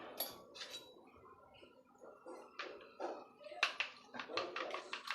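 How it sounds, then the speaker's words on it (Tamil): Four eggs with salt and pepper being beaten in a bowl, quick irregular clinking and tapping of a utensil against the dish, close and fairly quiet, with occasional talking. "நல்லா அடிச்சு விட்டுடலாம்."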